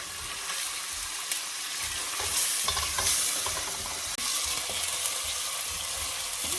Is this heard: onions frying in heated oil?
yes